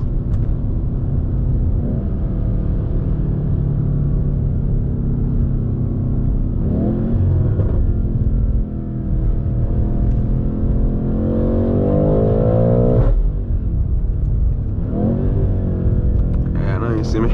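A BMW M8 Competition fitted with a catless downpipe and Eventuri intakes drones deeply, then climbs in several rising revs that sweep up and fall back, loud and close throughout.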